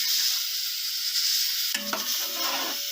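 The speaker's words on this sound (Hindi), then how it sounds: "और प्याज को हम फ्राई कर लेंगे।" Two large, thickly cut onions sizzle steadily in hot oil for nalli biryani, with a soft stirring scrape partway through, close and continuous.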